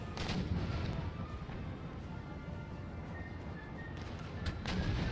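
Artillery cannon fire in the Empire: Total War video game, a continuous rumbling battle din with scattered booming shots near and far.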